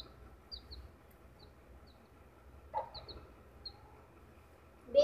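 A desi hen kept as a pet gives a few soft, sparse clucks and chirps, quiet and close, separated by stretches of low background hum.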